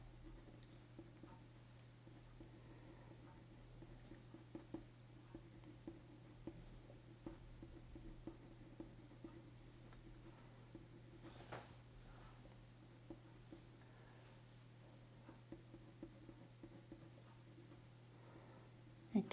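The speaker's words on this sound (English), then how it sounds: "Again, just using this pencil on its side." Colour pencil held on its side shading across paper, a soft continuous scratchy rasp with light rhythmic ticks of strokes, close and quiet throughout.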